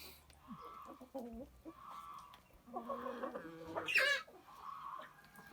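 Young Minorca cockerels cluck and call close by in a poultry yard, a run of short, choppy clucks building to a sharper, louder cry near the end, with other fowl noises scattered through.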